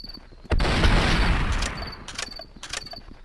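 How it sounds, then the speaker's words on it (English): A shotgun in Blood and Bacon goes off once with a sharp, loud blast that rumbles and decays over about a second, followed by fainter clicks and clatter. "Oh, it's a shotgun!"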